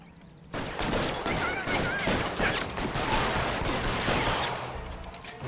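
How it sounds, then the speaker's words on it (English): Sustained gunfire in the LA Noire video game, a dense, loud rattle of overlapping shots and bursts that continues for about five seconds after a brief quiet opening. "Fire a warning round."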